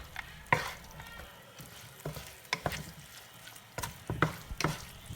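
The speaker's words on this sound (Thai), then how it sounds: "ขั้นตอนนี้แม่น้องนี่นาจะใส่ถั่วฝักยาวลงไปผัดกับ พริกแกงเด้อค่ะ" Long beans stir-fried with red curry paste in a pan, a series of irregular scraping and clattering stirs over a soft continuous sizzle, close and fairly quiet.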